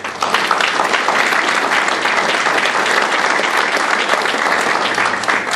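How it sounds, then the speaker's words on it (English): A room of attendees at a town council meeting breaks into steady, loud applause that lasts the whole stretch, with no talking over it. "give him a round of applause"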